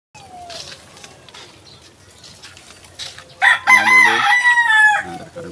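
Farmyard chickens cluck softly at first, then a rooster gives a loud, close crow that lasts about two seconds near the end.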